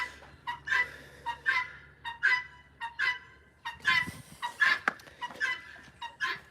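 Guinea fowl calling on a farm, a rapid series of repeated harsh, rhythmic cackling cries, close and fairly loud against a quiet low hum.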